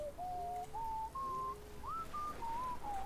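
A person whistles a slow, wavering tune of several held notes that step up and down, close and clear over a faint background hum.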